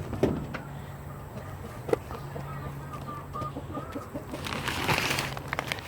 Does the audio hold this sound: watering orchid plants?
no